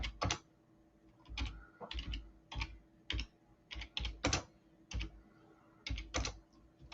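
Rapid bursts of keystrokes on a computer keyboard while searching, clustered clicks in quick uneven runs with short pauses between, close and clear against a faint steady background hum.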